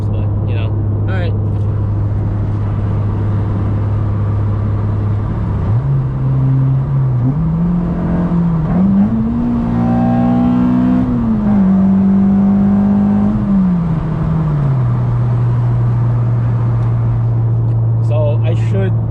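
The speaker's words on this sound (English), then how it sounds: "I'll just let you guys enjoy the exhaust noise from now on." A 9th gen Honda Civic Si with a Fullrace downpipe and aftermarket exhaust pulls hard from inside the cabin, a steady drone rising in pitch through the gears then settling back, with someone talking briefly at the start.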